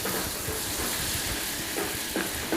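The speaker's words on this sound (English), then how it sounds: "So I have a tablespoon of butter. I'm going to melt it in a little saucepan here." Butter melting in a small saucepan gives a steady, close, low sizzle and hiss with faint crackles, swirled around the pan, with no one talking.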